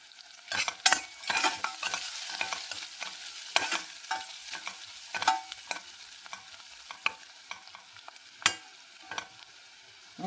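Curry frying in a pan while being stirred, with a steady sizzle broken by repeated scraping and clacking of the spoon against the pan, close and fairly loud with no talking.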